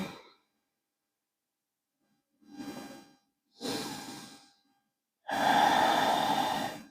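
Deep, slow breaths during a yoga stretch, with a soft inhale followed by two longer, fuller exhales, close and quiet with pauses of silence between them.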